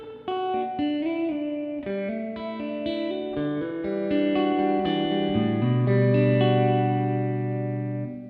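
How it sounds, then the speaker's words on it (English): An electric guitar through a Hammond organ guitar amp on its second reverb setting plays a melodic phrase, notes overlapping and ringing on, ending in a long sustained chord that slowly fades. "This is reverb 2."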